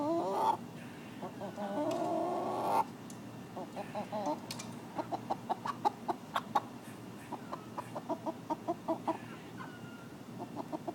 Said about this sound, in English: You are a very lovely chicken.